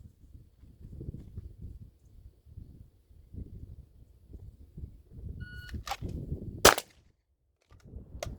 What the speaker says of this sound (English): let's just go and draw the first shot at 25 yards